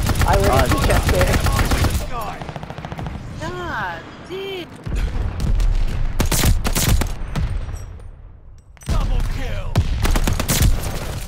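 Rapid video game gunfire rattles in loud, dense bursts aimed at a deployed turret, with sharp shots, brief pauses and a few electronic effect sweeps, heard alongside players talking.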